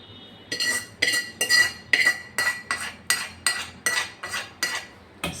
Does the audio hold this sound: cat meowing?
no